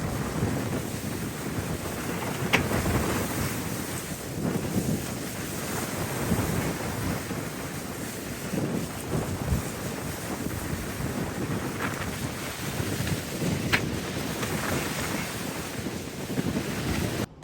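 A sailboat runs at about 9.5 knots in 25 knots of wind, with heavy wind buffeting the microphone over a continuous rush of waves and water against the hull, steady and loud with no voices.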